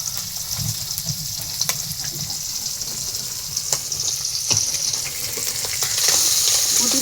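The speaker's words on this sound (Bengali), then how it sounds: "দিয়ে এখন হচ্ছে যে মুচমুচে করে ভাজছি" Puti fish coated in ginger, garlic, cumin paste, salt, turmeric and chili fry crisp in a hot pan. A loud, steady sizzle crackles for several seconds and swells toward the end, with no voice.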